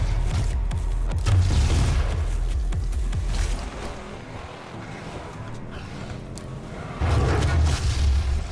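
Shotgun blasts in the video game DOOM (2016) come as deep, booming low-end thumps inside a dense mix of game action, with a quieter stretch between bursts.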